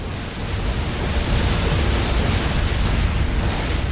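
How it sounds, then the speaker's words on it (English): Airstrike explosions in the World of Warcraft video game, a dense continuous roar of loud booming blasts rolling together for several seconds, with no talking over them. "Calling in airstrike imminent."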